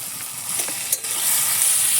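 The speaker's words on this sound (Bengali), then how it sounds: "চিংড়ি মাছ আমি কিন্তু আগে থেকে ভাজিনি আমি ডাইরেক্ট মশলার মধ্যে দিয়ে কষাবো" Raw prawns cook directly in spice masala, giving a bright continuous sizzle with a couple of quick stirring scrapes, close and steady over a short stretch.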